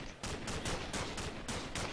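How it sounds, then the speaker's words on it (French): Rapid rifle fire at zombies in modded Minecraft, a regular string of about six sharp shots at an even rhythm, fairly loud with no talk over it. "Le petit fusil contre les zombies."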